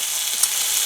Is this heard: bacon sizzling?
yes